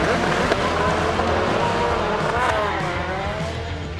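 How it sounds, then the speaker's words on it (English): GRC Volkswagen Beetle rallycross race car with an engine of over 600 horsepower, a steady loud roar with shifting engine pitch and faint tire noise, heard continuously for a few seconds. "The GRC Volkswagen Beetle, driven by Tanner Force"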